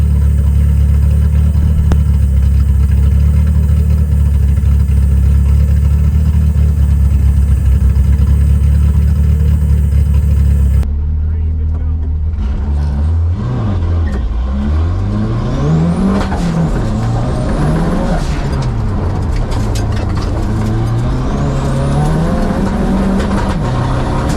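A Ford-powered 1963 122S engine roars at a loud, steady high pitch with its throttle stuck wide open while overtaking in a race, then drops and surges repeatedly with rising and falling revs.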